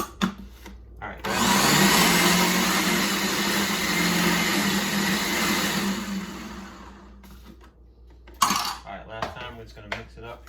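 A blender whirs steadily for several seconds, mixing ripe avocado and basil into a pesto, loud and close, then stops; a few clinks and light handling noises follow.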